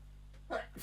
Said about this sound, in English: Oh gosh, I'm gonna sneeze.